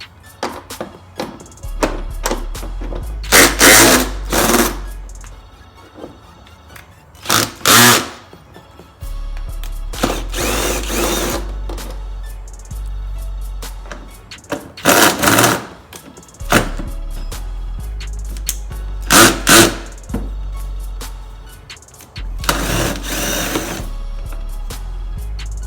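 A ratchet removing bolts from the air intake of a 2003 Lincoln Town Car, heard as several close bursts of rapid ratcheting clicks separated by pauses, with a low hum running underneath.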